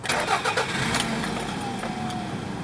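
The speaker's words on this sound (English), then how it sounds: "Now we'll start the engine." Car engine cranking and catching, then settling into a steady idle after an oxygen sensor fault code is cleared, heard close and continuous throughout.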